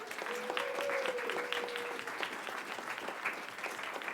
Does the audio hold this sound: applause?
yes